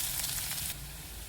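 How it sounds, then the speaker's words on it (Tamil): Onions sautéing in hot oil with curry leaves in a pan: a close, steady crackling sizzle with a faint stir, briefly busier at the start before settling to an even fry. "வெங்காயம் நல்லா வதங்கட்டும்."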